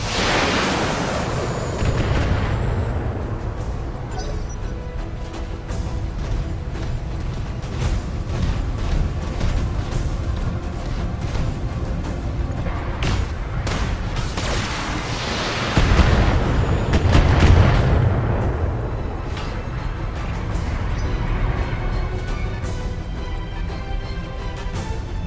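Long-range missile volleys and explosions from the mech combat game Battletech rumble continuously, with dense repeated booms and bursts throughout and a heavier blast cluster near the end.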